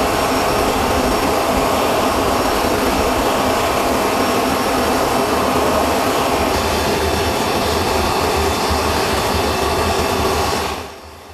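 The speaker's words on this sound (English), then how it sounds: "C-17 Globemaster II aircraft is capable of transporting two helicopters from one military base to another." Engines of a C-17 Globemaster II military transport aircraft produce a loud, continuous broadband jet roar that stays steady for about eleven seconds before dropping away abruptly.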